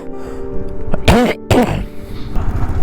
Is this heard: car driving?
no